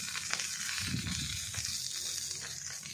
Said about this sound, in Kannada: ಗ್ರೀನ್ ಮಸಾಲ ಬಂಗುಡೆ ತವಾ ಫ್ರೈ ಬಂಗುಡೆ ಪಚ್ಚೆ ಮಸಾಲ ಆಹಾ ಮಸ್ತ್ ಲಾಯ್ಕ್ ಫ್ರೈ ಆತುಂಡು